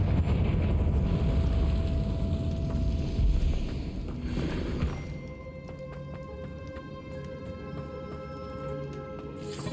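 A Confringo spell explosion in Hogwarts Legacy gives a loud, rumbling blast lasting several seconds, then drops away into quieter ringing tones and light clatter.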